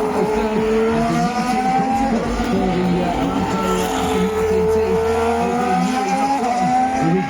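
Formula 1 cars in qualifying at the Qatar Grand Prix, engines screaming loud and continuous with rising and falling pitch as cars pass, plus brief tire squeal.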